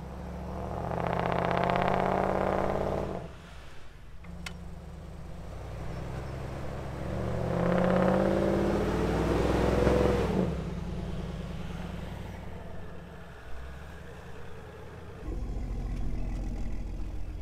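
One car tows another up a snowy road on a rope, its engine droning steadily at low revs and swelling in two longer surges before settling back, close and continuous with no talk.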